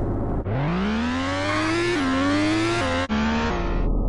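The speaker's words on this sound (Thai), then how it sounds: "เป็นรถเป็ดแต่เสียงเครื่องยนต์เหมือนรถทั่วไป" A car engine in the video game Sakura School Simulator revs up steadily and holds a loud, droning whine, with a brief drop as it shifts gears, then continues accelerating.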